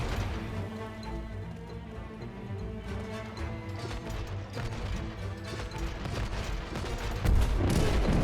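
Chaotic, dense battle noise from the video game It Takes Two, with continuous booming cannon blasts and crashing impacts layered over a busy music bed, ending with a heavier hit.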